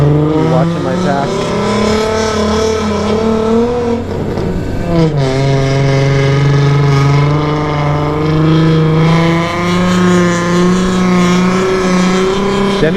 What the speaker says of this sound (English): Denny's warming up tires.